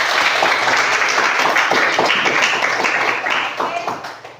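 A class of teacher trainees gives a burst of applause, a loud, dense wash of many clapping hands that runs steadily for about four seconds before thinning out at the end.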